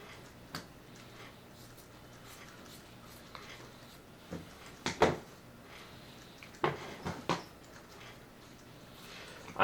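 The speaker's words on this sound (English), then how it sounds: "I have scissors, and I'm going to just trim these up really quick." Scissors trimming thin latex flash from a plaster mold, giving scattered soft snips and clicks at irregular intervals, quiet and close, with a few slightly sharper cuts in the middle.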